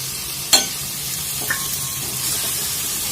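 Chili powder masala frying in a pan for goat leg sherva curry, a continuous hissing sizzle with a sharp utensil clink near the start and a lighter tap later, close by, with no speech.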